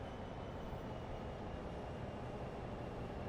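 A 604-tonne heritage diesel train pulls away effortlessly on the Northern Trans Pennine line, giving a steady, faint, broadband rumble from inside with no speech.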